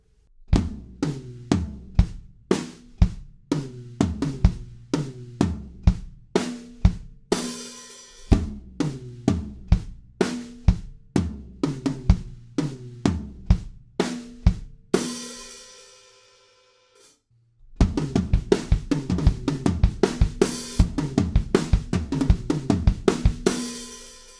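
Full drum kit groove in the style of a song, played alone with steady kick, snare and tom hits, a crash wash mid-way, a brief drop to near silence, then a denser, driving return.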